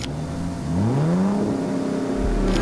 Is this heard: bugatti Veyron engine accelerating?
yes